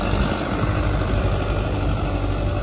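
A tractor engine idles on a farm with a steady, loud, low rumbling drone that holds unchanged throughout, with no voices.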